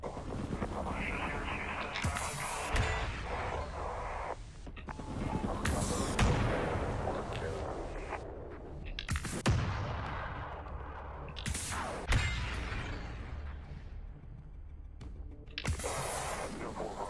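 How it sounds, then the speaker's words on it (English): Missile launches in the naval combat video game Battle Group 2, a series of loud booming shots with whooshing tails, some clustered, recurring every couple of seconds over dense rumbling background. "Gunner, quick to fire missiles."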